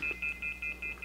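A ghost-hunting phone device gives a run of six short, evenly spaced electronic beeps, steady and fairly quiet, with no voices over it.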